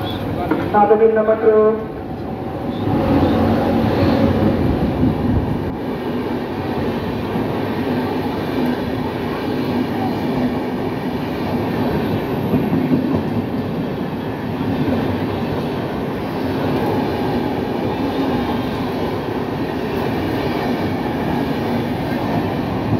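Shahid Express train on the Howrah line rolling past close by, a brief horn at first, then a long steady roar of wheels and cars on the rails with clattering, continuing loud throughout as voices speak faintly.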